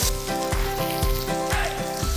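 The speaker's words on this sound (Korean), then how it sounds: "큐민 씨드하고 건고주 향으로 이거 볶을 겁니다." Cumin seeds and dried chili sizzle and crackle in hot oil for a curry, a steady close frying hiss with faint rhythmic stirring.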